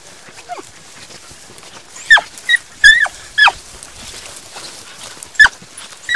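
Several short dog yelps and whimpers, a few sharp cries spaced over a few seconds, fairly close with quiet outdoor background, near a black bear den.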